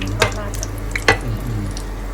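Fried laab, an Isan minced-meat dish, sizzles steadily in hot oil. A couple of sharp scrapes from stirring cut through the close, continuous frying hiss.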